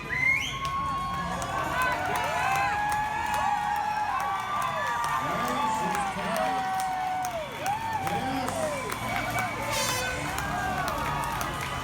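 A large rodeo crowd cheers and whoops continuously, loud and lively, with shouting voices rising and falling over a steady roar.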